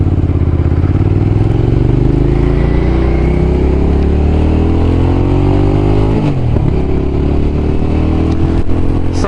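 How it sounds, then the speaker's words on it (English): A loud engine revs and drones steadily through its exhaust up close, pitch climbing gradually then dropping off sharply before building again, with some rattling clatter. "Something else great about this exhaust is you can rev it up a little bit"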